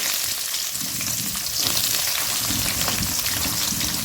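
Mustard seeds, cumin and onions frying in hot oil for a vada curry, a loud, dense sizzle that runs continuously up close, with stirring noises mixed in and no talking.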